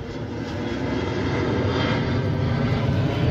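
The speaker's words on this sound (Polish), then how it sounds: "Właśnie samolot wystartował z lotniska Billund" A fixed-wing airplane takes off from Billund airport, its engine roar rising steadily and holding loud for the whole stretch, heard from nearby on the ground.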